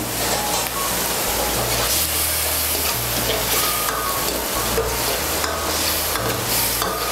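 Spice paste of chilli powder and cumin powder hits a pan of chana dal and sizzles steadily, with spoon stirring and scraping over a constant frying hiss; low hum underneath.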